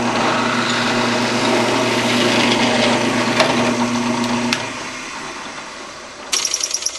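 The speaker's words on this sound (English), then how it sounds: "Well, I'm drilling this one out all the way." A power drill bores out a T-nut barrel, a loud high whine of the motor and bit grinding through the workpiece for several seconds before stopping, followed by a few short mechanical rattles.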